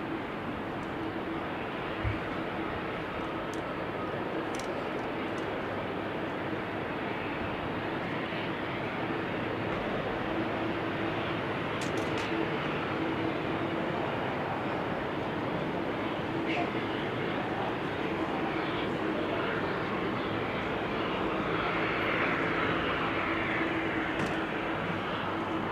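A KLM Boeing 777-200 lands at a showery Amsterdam Schiphol Airport: steady broadband jet roar holds at a distance throughout, with faint wind and background noise and no voices.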